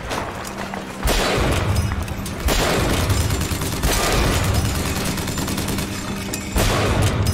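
Heavy gunfire from the Bioshock Infinite video game: dense bursts of rapid shots and booming blasts, loud and continuous, with sharp surges as new volleys begin.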